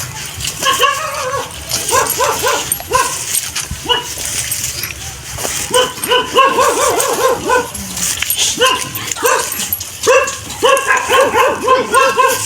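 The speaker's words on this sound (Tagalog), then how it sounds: "Daming aso dito." Many dogs bark, yip and whimper nearby, sometimes overlapping in loud bursts that carry through the whole stretch, with voices occasionally mixed in.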